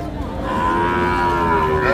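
Young calves of native, Sahiwal and Friesian breeds moo loudly and steadily at a busy cattle market, with long drawn-out calls overlapping the background murmur.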